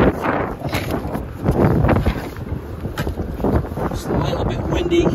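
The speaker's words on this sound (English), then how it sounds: "It's a little bit windy." Strong wind on a beach buffeting the microphone in gusty rumbles, continuous and loud, with faint talk underneath.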